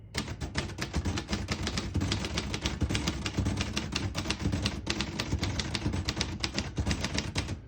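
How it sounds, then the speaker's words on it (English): Keys clack in a fast, steady stream on a 1948 Royal Quiet De Luxe portable manual typewriter typing in red ribbon. Close and crisp with many rapid strikes and no speech. "I'll type a sentence in red on the next line."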